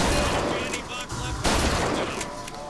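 Gunfire from the video game Bioshock Infinite, a dense run of shots crackling in a busy, loud mix with a voice speaking over it.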